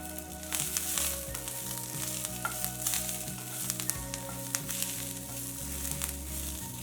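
Onion fries in a pan for a tomato chutney, a close, steady sizzle with sharp crackles and pops scattered through it and no one talking.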